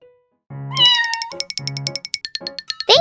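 Cat meowing, a loud, close series of rapid, tonal, squeaky electronic-sounding meows in quick bursts with no talking.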